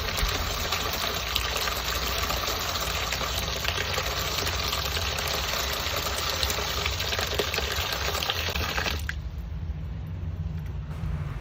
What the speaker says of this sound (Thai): จากนั้นค่ะเดี๋ยวเราจะล้างให้เขาหายเค็มค่ะ ล้างเขาหนึ่งรอบค่ะ